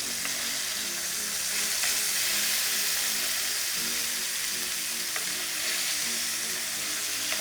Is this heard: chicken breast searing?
yes